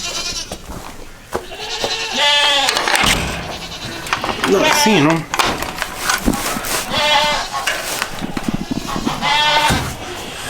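Goats bleating inside a farm barn, repeated wavering calls from several animals at varying distances, with a person speaking over them now and then.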